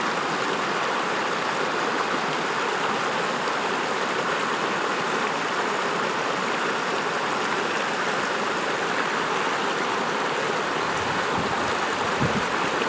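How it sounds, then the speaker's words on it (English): A mountain stream on the way into the Pecos Wilderness rushes steadily and close by, a dense, unbroken wash of flowing water that holds the same level throughout, with no voices over it. "What a pretty stream."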